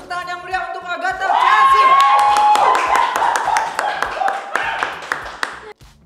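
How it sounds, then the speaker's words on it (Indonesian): Live game-show audience claps together, quickly swelling into a dense burst of applause and some cheering over a musical sting that fades as the clapping thins out. "Tepuk tangan yang meriah untuk Agatha"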